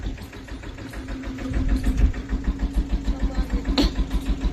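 A tractor's diesel engine idles with a steady low rumble and rhythmic chugging pulses, close by, with a brief higher rattle near the end.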